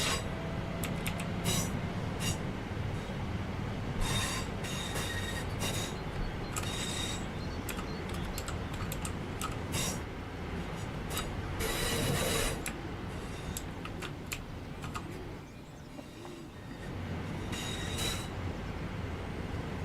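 Train running on rails in the game Train Sim World 5, a continuous rolling rumble with repeated metallic clicks and squeals from the wheels, fairly quiet and steady, dipping briefly near the end, with no talk.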